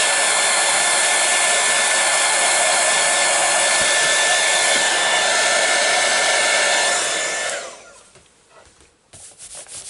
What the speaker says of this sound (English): mine's crinkling now because I've used the heat gun